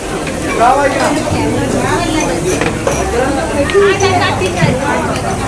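Steady crackling sizzle of barramundi frying in hot oil, with occasional clinks of a utensil and people talking over it throughout.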